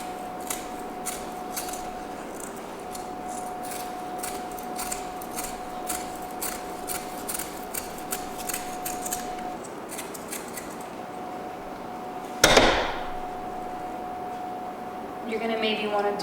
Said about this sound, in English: cut them out to whatever shape you might need